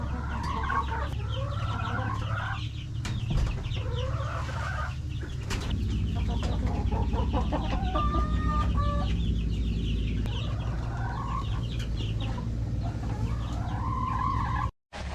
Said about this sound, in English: Chickens are over here.